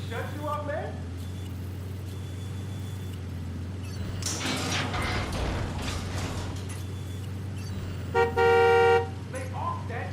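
A car idling inside a garage in the video game Watch Dogs 2: a steady low engine hum with mechanical clanks, then a sharp car horn blast near the end, as voices talk over it.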